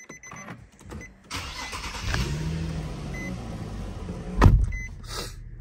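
The VQ35HR V6 in a 2010 Infiniti FX35 cranks and catches just after a valve cover gasket replacement, then settles into a steady idle close by, with a couple of faint chimes and a thump partway through.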